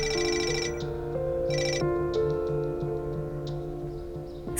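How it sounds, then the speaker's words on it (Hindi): A telephone rings with a repeating electronic ringtone, trilling in short bursts over a steady tone in a quiet room during a dubbed Turkish drama scene. "सानिया, मैं फोन का इंतजार ही कर रही थी।"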